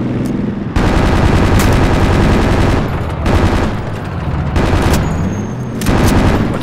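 Bursts of automatic gunfire in a military video game, loud rapid machine-gun volleys in several long stretches separated by short pauses, close and dominant.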